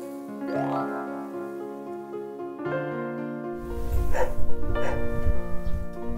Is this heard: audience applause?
no